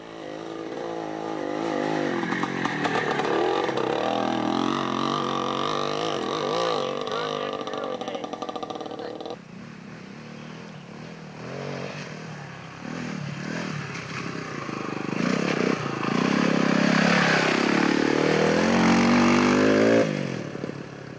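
A 1969 Greeves dual sport motorcycle is ridden at a dual sport ride in Logan, Ohio. Its engine drones steadily, then revs and climbs in pitch toward the end, with faint voices in the background.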